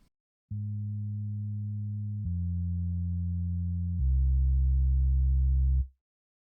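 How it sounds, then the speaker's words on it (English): A pure, deep synth bass tone held in three steady notes, each step lower and louder, then cutting off cleanly. "It's just very, very standard kind of, you know, sub sound."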